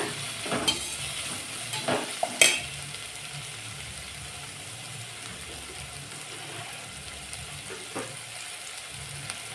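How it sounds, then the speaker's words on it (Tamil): Two large onions sautéing in a pan for a spinach stir-fry, a steady soft sizzle with a few louder stirring scrapes near the start, then a low continuous frying hiss. "வெங்காயம் நல்லா வதங்கட்டும்"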